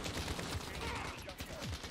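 Rapid bursts of automatic gunfire from Call of Duty Modern Warfare multiplayer, dense and continuous across the moment with faint talk underneath.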